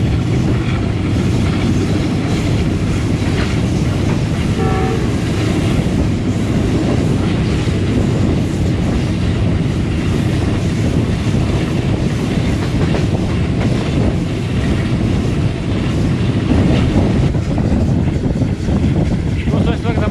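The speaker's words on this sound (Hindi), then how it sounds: "दोस्तों इस वक्त हमारी ट्रेन लोचावाला गाँव से गुजर रही है" A Chinese-built passenger express between Bahawalpur and Lahore rumbles loudly and continuously along the rails, a dense roar with faint clicks of wheels over joints, heard from inside the moving train.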